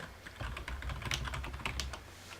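Rapid clicking of keys on a computer keyboard, a quick irregular burst of typing heard up close with no talking.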